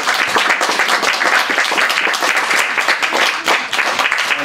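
Audience applause for poets at the Grolier poetry reading launching the journal Peripheries 5, a dense, steady clapping from a room of listeners that stays loud and even throughout.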